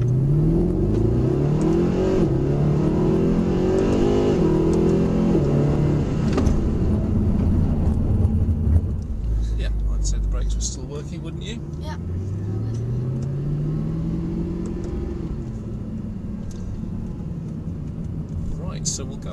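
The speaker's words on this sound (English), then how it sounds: "So we're going to start off with a high speed emergency stop" A Mercedes SLS AMG on a handling circuit roars as it accelerates to high speed, then the engine note drops abruptly under a hard emergency stop before climbing again. A voice talks over the loud, steady engine noise.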